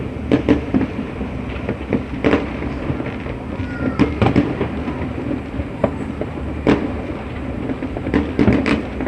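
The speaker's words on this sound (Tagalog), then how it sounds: "Ang ganda ng mga fireworks dito." New Year's Eve fireworks over the Parque Espanya Residences Hotel burst in scattered sharp booms and crackles, some near and loud, others fainter, over a steady background hum.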